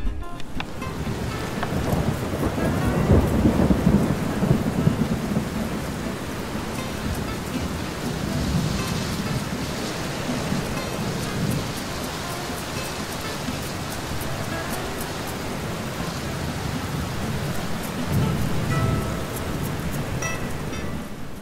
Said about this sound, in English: I hear the rumble of thunder in the distance.